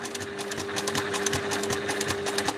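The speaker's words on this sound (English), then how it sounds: "What I like to do whenever I'm sewing curves is to slightly reduce the stitch length" A sewing machine runs continuously at a steady rapid stitch rate, stitching a long curve on a fabric backpack, with a close mechanical whir and rhythmic needle clatter and no pauses.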